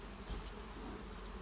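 Honey bees hum at an open hive during a midsummer inspection, a steady, close, enveloping drone of many wings with no talk.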